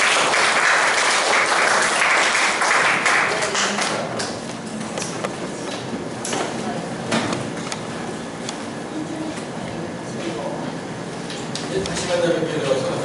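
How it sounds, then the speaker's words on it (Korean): An audience applauds as a professor steps forward to give a lecture on the Psalms, a dense clatter loudest over the first few seconds, then thinning into scattered claps and room noise with some voices. "우리 교수님 앞으로 오실 때 큰 박수로 환영해주십니다."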